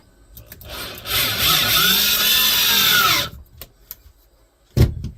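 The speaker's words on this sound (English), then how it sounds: "What is this, a hammer drill?" A cheap Black & Decker hammer drill bores into wood for about two seconds, a loud steady whine with rising pitch, then stops; a sharp knock follows shortly after.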